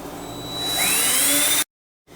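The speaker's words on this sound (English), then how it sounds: "I'm going to drill an additional hole right in the center here" Power drill boring a hole into wood for a wooden media rack, a close whine rising in pitch over about a second and a half before cutting off sharply into silence.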